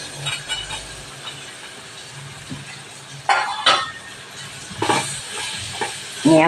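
Pieces of raw amla, Indian gooseberry, hit hot oil in a home kitchen pan, giving a steady low sizzle that swells into several louder hissing bursts toward the end, with no voices over it.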